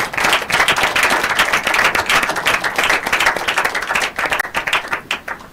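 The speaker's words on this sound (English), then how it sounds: "give a round of applause for our young lady" Loud, close applause from a group at a school quiz and debate competition, dense rapid clapping that holds steady and starts thinning out toward the end.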